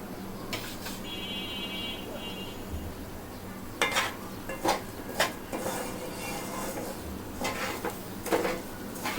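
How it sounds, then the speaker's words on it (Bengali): Rice frying in oil in a pot for chicken tehari, stirred with a spoon that clinks and scrapes against the metal in irregular bursts over a soft steady sizzle. "এখন ভালো মতো নেড়ে চেড়ে আমি চালটাকে ভেজে নেব"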